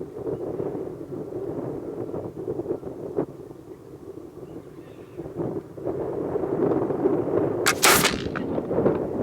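A Northwest trade gun fires a 70-grain charge of 3F black powder, a single sharp blast near the end that breaks over steady outdoor wind and low rumble.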